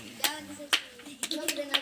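Children clap their hands at a prize ceremony, a few separate sharp claps spaced out over a couple of seconds, close and moderately loud, with faint voices in the background.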